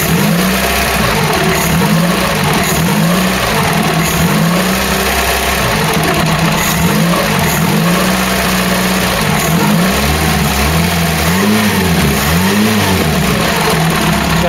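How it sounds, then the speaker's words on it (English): A rebuilt Ford Cortina GXL engine, its points freshly gapped, revs up and down repeatedly over a steady idle, loud and close throughout with no talking. "We can actually get a rev out of it now."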